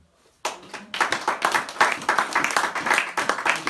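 A church congregation breaks into lively clapping after a brief silence, steady rhythmic handclaps that quickly fill the room and continue loudly to the end.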